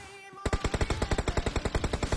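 Rapid automatic gunfire in a shooter video game, a steady burst of about twenty close, loud shots in quick even succession, starting abruptly after a brief quiet moment.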